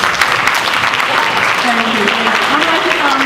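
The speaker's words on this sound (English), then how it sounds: "give you a round of applause for all our honorees" Audience applause at a men's empowerment program honoring people at a senior center, steady dense clapping filling the room with a voice faintly audible underneath.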